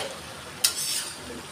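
Greens sizzle in a hot pan with turmeric, cumin and a pinch of sugar as a utensil stirs them, one sharp scrape standing out against the soft, steady frying hiss nearby.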